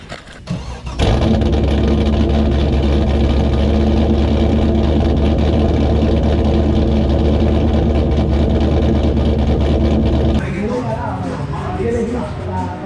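A 2000 Chevy Camaro with a worn exhaust and a MagnaFlow muffler fires up and settles into a loud, steady, rumbling idle close by for about ten seconds, then drops off as other noises take over.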